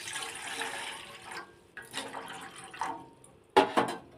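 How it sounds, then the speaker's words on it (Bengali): Water poured into a saucepan, a rushing, splashing stream that runs steadily for over a second, then comes in shorter separate pours with brief pauses between them. "এতে দিয়ে দেবো জল।"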